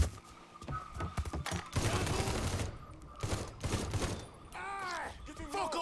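Bursts of enemy gunfire in the crime shooter Mafia III crackle in rapid volleys, loud and close, while someone shouts over the shots and groans between them.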